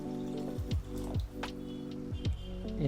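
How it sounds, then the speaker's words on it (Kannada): Water goes into a pot of tomato sambar on a home stove, with several short splashing, gurgling pours and soft squelches, close and fairly quiet, and no voices. "ಇನ್ನರ್ಧ ನೀರು ಹಾಕ್ತಾಯಿದ್ದೀನಿ."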